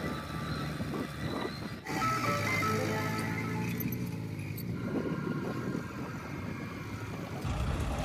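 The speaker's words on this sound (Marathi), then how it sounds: "हे ट्रॅक्टर इकडे पास करत आहे" A tractor engine drones close by with a steady low rumble, mixed with rattling and faint clinks as it passes a turmeric planting machine in a field.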